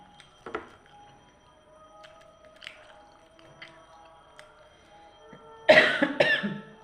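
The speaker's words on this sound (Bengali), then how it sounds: "আবার একটু খুসখুস করে কাশি হয়েছে" A person gives a few light, dry, tickly coughs and throat clears at close range in a quiet indoor room, with small scattered handling noises between them and a louder cluster of coughs near the end.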